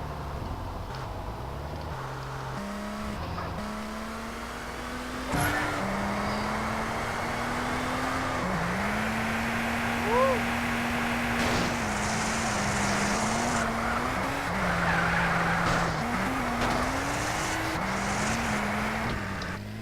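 A Jester car drives in GTA San Andreas Multiplayer, its game engine note holding a steady drone and shifting pitch up and down through gear changes, with no talk over it.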